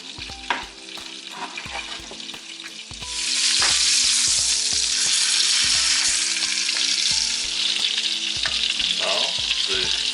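A potato fries in a hot pan with a constant sizzle that swells louder partway through, over regular rhythmic clunks, loud and close with no talking.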